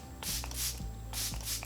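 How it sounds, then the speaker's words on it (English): Two quick pairs of mist bursts from an e.l.f. Dewy Coconut Setting Mist spray bottle, each a short close hiss with a faint pump click, no talking. "I'm going to use some setting spray to set all those creams"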